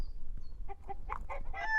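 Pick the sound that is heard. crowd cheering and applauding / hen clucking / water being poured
hen clucking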